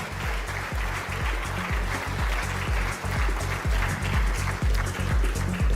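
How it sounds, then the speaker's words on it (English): Audience applause at an awards ceremony in Andhra Pradesh, where the Chief Minister receives a Business Reformer of the Year award, heard as steady, loud, rhythmic clapping that carries through with no talk over it. "I'd request a warm round of applause and a big thank you."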